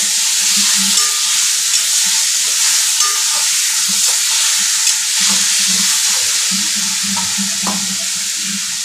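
Onion, ginger and garlic paste frying loudly in a pan, a dense continuous sizzle with stirring scrapes and soft clinks throughout.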